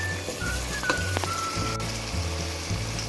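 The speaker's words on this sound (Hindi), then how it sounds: "आपने इसको इस टाइम पे इसको हल्की फ्लेम पे अच्छी तरह इसको भूनना है, ताकि हमारा अच्छी तरह मसाला भून जाए।" Masala fries gently in a pan on a low flame for a dahi aloo dish, giving a steady, soft, close sizzle with small crackling pops throughout.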